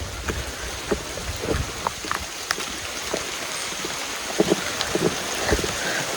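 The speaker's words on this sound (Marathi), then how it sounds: "मध्येच ऊन पडतोय मध्येच पाऊस पडतोय" Steady rain falling, a dense hiss of drops with scattered sharper taps and patters, fairly close, with no voices.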